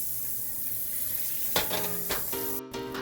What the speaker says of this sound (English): throw 2 tablespoons of butter and just wait for it to melt down